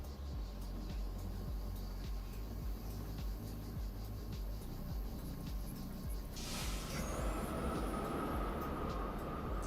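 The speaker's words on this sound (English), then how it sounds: "First one with no one here, that train takes off." Roller coaster train in Planet Coaster 2 on a West Coast Racer build at Six Flags Magic Mountain, a steady rumbling rail roar that swells with a rising whoosh and whine partway through as the train launches away.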